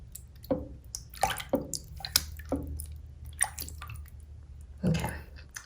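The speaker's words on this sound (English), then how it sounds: "I just kind of wanted to capture the sound of the water." Water drips and sloshes in irregular, close splashes and plops spaced about a second apart, over a quiet background.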